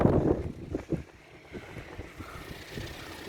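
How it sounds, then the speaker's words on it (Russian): Very strong gusting wind at small wind turbines during a 25 m/s storm, roaring and buffeting close to the microphone with uneven surges and no talk. "Ветер очень сильный."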